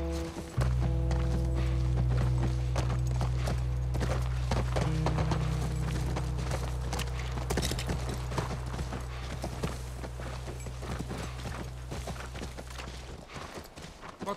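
Horse hooves clip-clopping steadily while riding in The Last of Us video game, a continuous rhythmic trot over a low droning game soundtrack that lasts the whole stretch.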